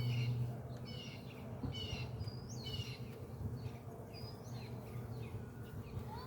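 Honey bees in a backyard hive harassing small hive beetles, a faint, steady buzz and drone from the colony with scattered soft chirps in the background.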